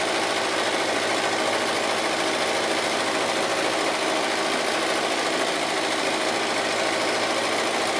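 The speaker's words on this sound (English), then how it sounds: "I decided I would do a large meander quilt, free motion quilting on this one" A sewing machine runs steadily while free motion quilting a large meander pattern on a cushion, its close, continuous motor whir and needle chatter holding an even level throughout with no pauses.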